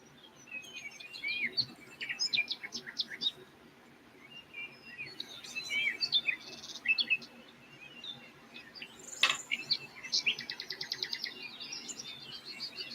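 Birds chirp and tweet in repeated quick bursts of high calls, fairly faint and outdoors, with pauses between phrases and a faint insect buzz beneath; no one speaks.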